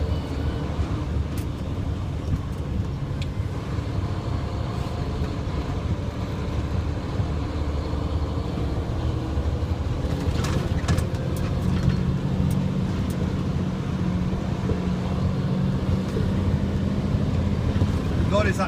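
A big truck engine with a 10-speed transmission revs and rumbles steadily while gears are changed without the clutch, a continuous low drone that rises slightly partway through, with someone talking over it.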